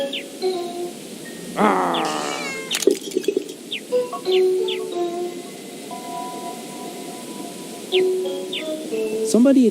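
A cat meows amid game ambience in The Little Acre, with several mewing calls and chirps scattered over a steady background of music and environmental sound.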